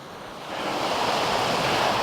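A large Welsh waterfall rushes in winter, a steady broad roar of falling water that swells slightly and holds constant throughout, heard from below near the base.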